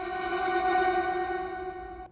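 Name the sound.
reverse reverb of high pitched vocals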